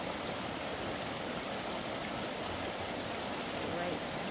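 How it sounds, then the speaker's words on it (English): A small babbling brook in Lamoille Canyon, Nevada, flows with a steady, full rush of water that fills the whole stretch evenly, close by and constant. "I love these little dabbling brooks."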